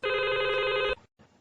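A telephone rings during a radio show's call to a doctor, one continuous loud electronic ring that cuts off abruptly, followed by faint line noise.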